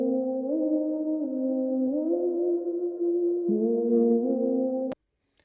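Unprocessed ambient backing vocal sample in a vintage-synth FL Studio beat: a steady, hollow tonal drone that glides between pitches for about five seconds, then cuts off abruptly.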